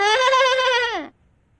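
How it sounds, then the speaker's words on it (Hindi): A single goat gives a loud, close bleat lasting about a second with a wavering, nasal tone that drops in pitch at the end, followed by near silence. "बकरा"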